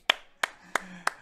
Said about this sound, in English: That deserves a clap. Yep. Clap.